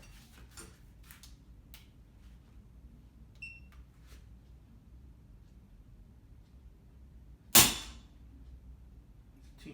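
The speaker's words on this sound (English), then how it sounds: "Gonna cock the gun for you. Gonna do a trigger pull test." Zbroia Kozak .177 bullpup air rifle: faint scattered mechanical ticks and clicks of cocking, followed by one sharp, loud snap of the trigger release, close up with no talking.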